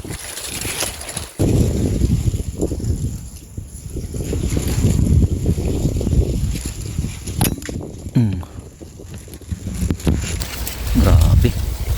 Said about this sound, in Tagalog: Ang ihip ng hangin, ang lakas.